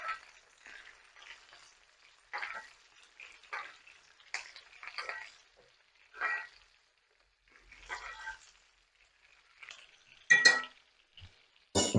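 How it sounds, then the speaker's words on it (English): Potatoes with fresh thyme and garlic are stirred and basted in a pan, giving soft intermittent sizzling bursts and light scraping, with a sharper metallic clink near the end. "Give that a little mix and baste that over the top of the potatoes"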